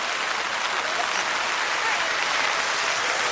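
Rain falls on a city street at night in Tokyo as a dense, steady hiss of drops, loud and continuous throughout.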